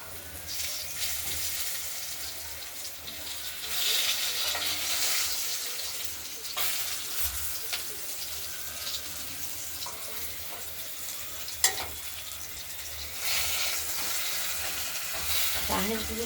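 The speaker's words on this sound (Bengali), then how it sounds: "আলুটা ভাজা হোক।" Potatoes frying in a pan for a rohu fish curry, a soft continuous sizzle with occasional stirring scrapes and one sharp clink, fairly quiet and without talk.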